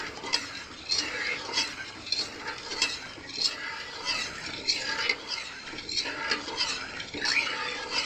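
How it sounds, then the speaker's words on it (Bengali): A spoon stirs sugar and water in a metal pot to make sugar syrup for a palm lobongo latika sweet, giving repeated close scraping and clinking strokes in a steady rhythm. "চলুন ভালো করে চিনির সিরাটা তৈরি করি"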